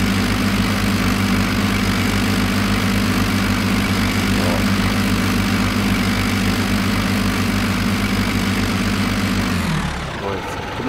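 A tractor pulling an Eicher loader wagon drives in Farming Simulator 19. Its engine gives a loud, steady droning hum that runs evenly and then cuts off abruptly just before the end.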